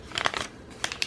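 Paper being creased and folded by hand into an Instax film pouch, a few soft crinkling bursts close by, with a pause between handling sounds.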